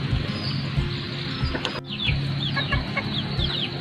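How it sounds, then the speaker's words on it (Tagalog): Laying hens cluck repeatedly nearby, with short bursts of clucking and chirpy calls overlapping against a busy farmyard background. "dito natin pinapaitlog yung mga inahin"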